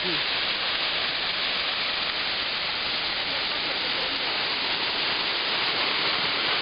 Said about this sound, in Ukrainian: Вода проривається між двох маленьких щельних утворень і впадає в річку Ілемка.